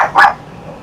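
A single sharp dog bark, close and loud, followed by quiet room tone.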